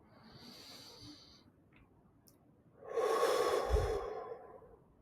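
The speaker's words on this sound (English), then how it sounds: "Let's take 2 deep breaths together." Two deep breaths: a softer, airy inhale or exhale followed by a louder, longer rushing breath, close to the microphone with no talking.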